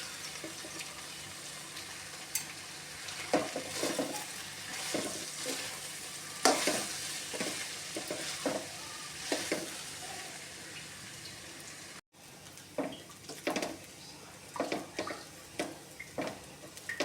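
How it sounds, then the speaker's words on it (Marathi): Cooked basmati rice being stirred into a chicken sausage pulao in a pot, with repeated close scraping and stirring knocks over a faint sizzle and a short break partway through. "आता आपण बासमती राईस बनवून घेतलेला आहे ते मिक्स करणार आहोत"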